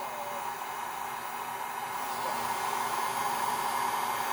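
Heat gun blowing steadily on heat shrink tubing, a continuous close hiss-like whoosh of hot air that swells slightly louder partway through.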